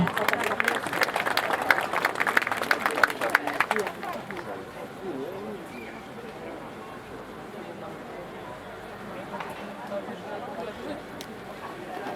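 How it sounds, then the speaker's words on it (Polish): An audience at the 2023 Dąbrowa harvest festival claps for about four seconds, dense and fairly loud, then fades into a murmuring outdoor crowd with scattered voices. "Zapraszamy do nas, wielkie brawa."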